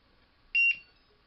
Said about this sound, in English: Now when you unplug it, it should make that beeping sound